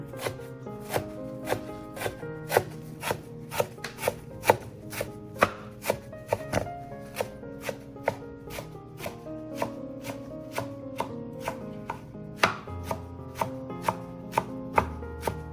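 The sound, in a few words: chopping herbs with a knife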